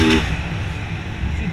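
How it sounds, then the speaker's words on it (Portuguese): City traffic rumbles around a motorcycle rider on urban streets, a steady low engine and road drone with a brief louder burst at the start, continuous and fairly close. "Esse trânsito é fora"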